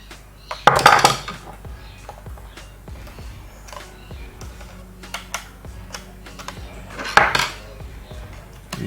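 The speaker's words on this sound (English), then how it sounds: "once you are done, you gently flip open the cover." The plastic cover of an HP ProBook 440 G5 laptop is worked open, with two louder clattering scrapes and many small clicks and taps from handling the casing, close by.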